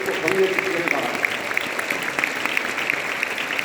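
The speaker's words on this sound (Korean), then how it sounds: "박수로 한번 격려해 주세요" Church conference audience applauding to encourage a pastor and his family, a moderate steady patter of clapping with a few sharper claps, running beneath a voice.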